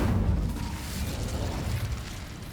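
An Incendio fire spell cast in Hogwarts Legacy, a loud, dense whooshing burst with a low rumbling roar that fades slowly over a couple of seconds, heard alone.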